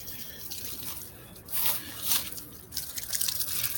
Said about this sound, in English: Let's strain the water out.